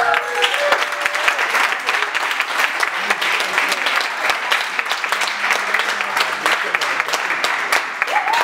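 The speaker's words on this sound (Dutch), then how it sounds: "Geef ze een groot applaus" A crowd applauds after a dance formation's demo performance, dense sustained clapping filling the room, with a voice briefly heard over it.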